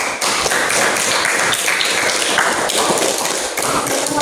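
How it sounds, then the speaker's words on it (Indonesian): Close, loud, continuous clapping from a small group in a classroom, a dense even patter of hands lasting several seconds with no talk over it. "Beri tepuk tangan dulu buat Sofi."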